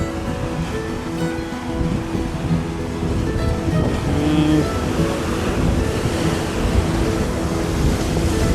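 Ocean waves wash steadily up onto a beach, a loud continuous surf roar with wind buffeting the microphone and no talking.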